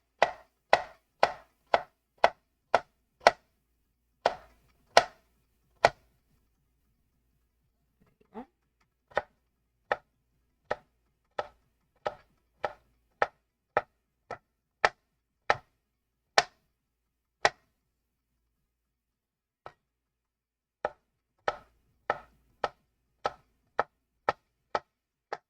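A knife chopping carrots on a cutting board, crisp evenly spaced knocks in several runs separated by short pauses, close and clear with no talking.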